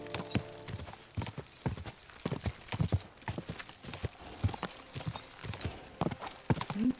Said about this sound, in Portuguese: Vamos cavalgar para o horizonte.